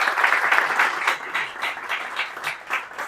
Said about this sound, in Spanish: darle las gracias y un aplauso